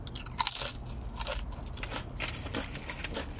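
Fresh crunchy tortilla chips bitten and chewed during a Chipotle eating session, a series of close, sharp crunches and crackles at an uneven pace with no talking.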